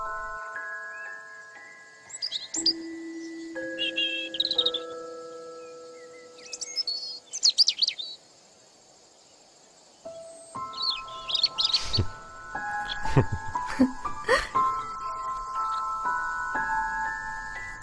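Birds call in a hunting area: repeated high chirps and tweets, some close and sharp, over sustained tonal notes, with quieter gaps between bursts.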